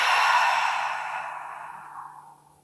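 A long, deep exhale during a pregnancy yoga breathing exercise, breathy and close, starting strong and steadily fading out over about two and a half seconds, with no speech.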